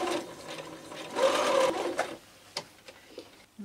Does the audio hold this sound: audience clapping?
no